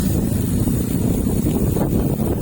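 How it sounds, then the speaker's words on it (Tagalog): Strong wind buffeting the microphone on a road bike ride, a loud, steady, low roar with gusty swells and no speech. "Oh, lumalakas ang hangin."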